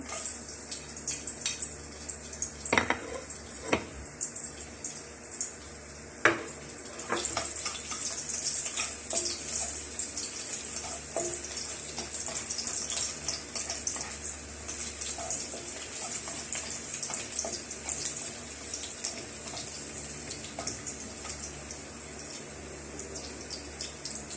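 Garlic sautéing in hot oil in a frying pan, a steady close sizzle with soft crackles and a few sharper spatters or stirring knocks early on, running continuously without any talk.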